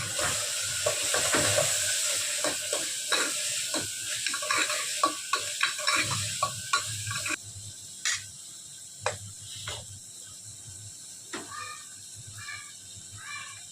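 Potatoes frying with hing, turmeric and salt in a pan as a spoon stirs them, making a sizzle under repeated scraping clatters that grow sparser and quieter toward the end, with no voices.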